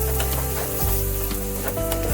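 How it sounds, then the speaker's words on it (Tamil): Garlic, ginger, urad dal, chana dal and tamarind fry in a pan with a steady, dense sizzle and faint scraping of stirring, close and continuous throughout. "பூண்டு, இஞ்சி, உளுந்து, கடலைப்பருப்பு, புளி எல்லாத்தையும் போட்டு வறுத்துக்கலாம்."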